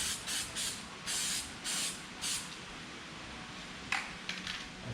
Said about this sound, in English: so you want to spray the bumper with a primer